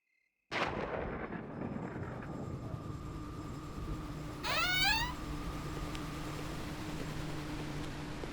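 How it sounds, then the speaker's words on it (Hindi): Deep thunder rumbles from cloudy skies, a loud, sustained roll that swells in about half a second and keeps growing without pause, with a brief sharper crackle partway through and no voices. "लेकिन आज तो अपने यहाँ भी बादल गरज रहे हैं।"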